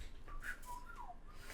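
A person whistles a few short, faint rising and falling notes at low level, alone without talk.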